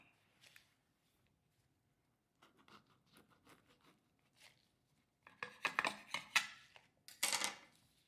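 A knife cuts through a Shanghai sticky rice roll on a plate, with soft scattered rubbing and slicing scrapes that grow into a denser burst of crisp cutting sounds near the end, quiet and close.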